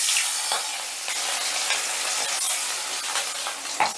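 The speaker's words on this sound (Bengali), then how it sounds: "এবারে মাছগুলো ভেজে নিচ্ছি" Pieces of katla fish frying in hot oil in a kadai, a loud continuous sizzle with occasional crackles, close and steady.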